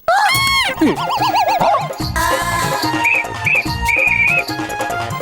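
A whistle blown in a comedic TV-show scene, giving rapid warbling, wavering toots and boing-like slides in quick bursts, loud and close over busy background music and effects.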